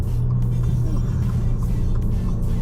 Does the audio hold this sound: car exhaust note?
yes